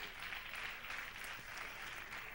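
A church audience at a Sunday evening service claps its hands, a faint, steady wash of many hands heard at a distance on an old recording.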